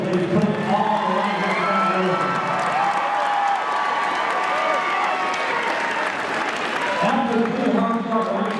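Audience applause and cheering fills a fight venue at an NEF 32 mixed martial arts event, a steady dense roar of clapping under an announcer's voice that trails off, then returns near the end.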